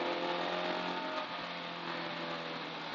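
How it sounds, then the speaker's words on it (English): A classic rally car engine runs steadily up close, a dense continuous mechanical drone with a slight rev change partway through, heard alone without voices. "Like the engine sound is music to my ears"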